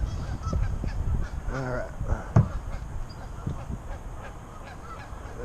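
Geese honk from across the water near a scummy pond edge, a loud burst of several honks standing out over background noise while someone speaks briefly.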